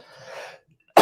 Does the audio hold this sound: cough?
yes